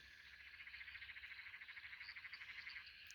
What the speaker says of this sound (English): While living here, you can hear the critters. Probably heard the birds through the day. The frogs, the